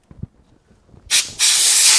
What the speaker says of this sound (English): Blow the air out from between the tread and away from the bead.